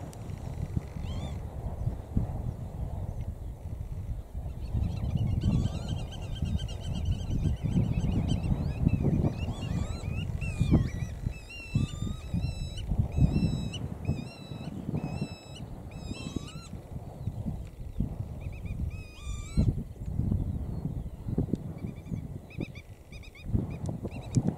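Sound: flock of wild birds calling

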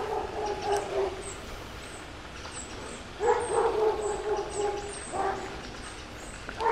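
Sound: dog barking

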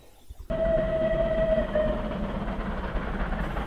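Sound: train passing, radio drama sound effect

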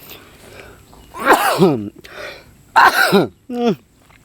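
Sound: sneeze

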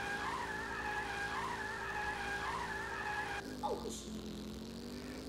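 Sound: kart drifting and skidding in video game All-Star Fruit Racing

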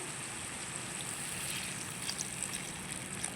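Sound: water being poured into mushroom masala curry

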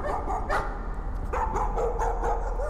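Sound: unhappy dog barking and whimpering in video game Layers of Fear

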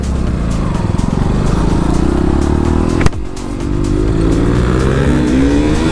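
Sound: motorcycle with loud exhaust revving

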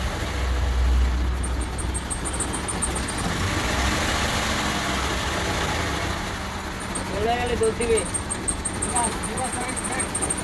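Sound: car engine running during automatic gearbox repair

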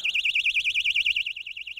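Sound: loud emergency alarm inside a mineral wool insulated box

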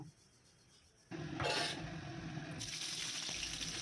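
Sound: draining water from boiled rice

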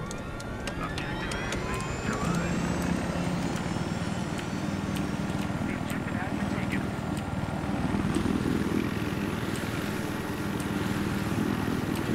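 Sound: helicopter flying in a video game

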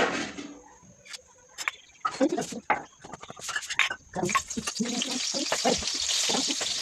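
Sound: frying food in a pan while cooking

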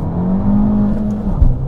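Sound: Abarth 595 Esseesse car accelerating with gear changes

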